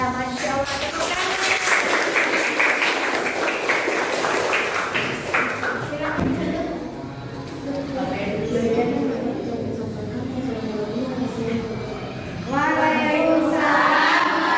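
Students in a classroom clap together for several seconds while a teacher's voice carries over the applause, which thins out before speech continues alone and some clapping briefly returns near the end.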